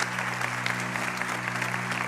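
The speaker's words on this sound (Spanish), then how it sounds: "dale más fuertes aplausos al Señor" A church congregation claps loudly and continuously in praise, a dense, even wash of applause filling the hall with a low steady hum underneath.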